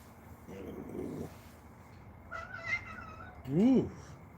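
A house cat, one of several Ragdolls, gives short meows and a rising yowl, the last one loud and close, with muffled talk and household noise in between.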